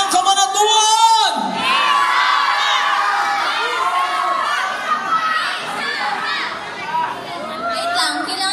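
A festive crowd at a barangay fiesta concert in Cabanatuan City shouts and cheers loudly and continuously, a dense mass of voices with children's shrieks, following a brief amplified call from the stage.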